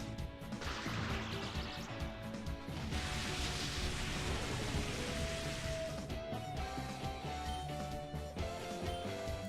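Rain weather in the game Pokemon XD: Gale of Darkness, a steady hiss of falling rain with a slight shift in texture, continuous and fairly loud, with no talk over it.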